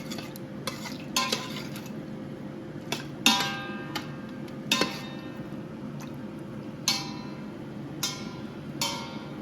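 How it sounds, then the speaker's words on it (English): A spoon stirs pork belly braise ingredients with water and brown sugar in an Instant Pot, with intermittent sharp clinks and scrapes against the metal over a low steady background hum. "And now mix everything together."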